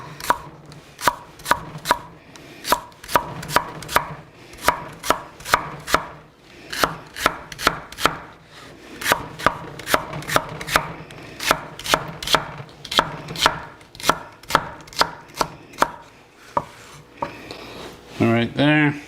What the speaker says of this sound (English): I'm going to slice this on that bias.